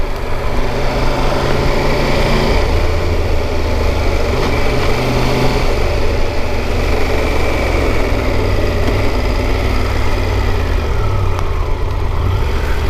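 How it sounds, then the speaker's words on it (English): A Triumph Tiger 1200 GT Pro motorcycle engine running at low speed under light throttle, a loud, steady thrumming drone with wind noise and no speech throughout. "You can really feel that new firing order at low speed when you're putting a bit of fuel on that engine."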